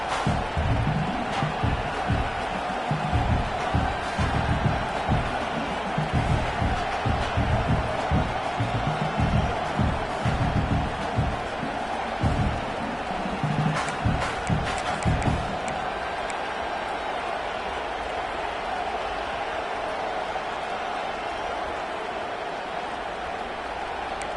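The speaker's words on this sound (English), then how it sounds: "this home crowd is fired up and ready to make a difference today" Home crowd at a football stadium roars steadily as play gets underway, a broad wash of cheering with scattered claps and shouts that thins to a softer murmur near the end.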